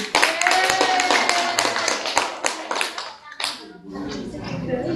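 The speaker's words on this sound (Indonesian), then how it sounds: "Tepuk tangan buat Mbak Biji" Classmates clapping for a student during a mathematics lesson, a loud burst of rapid hand claps that thins out, breaks briefly, and is followed by softer room noise.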